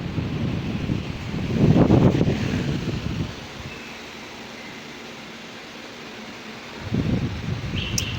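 A size 18 electric fan switched on for a test, giving a steady broadband whooshing hum with louder gusting swells near the start and end, no voices present.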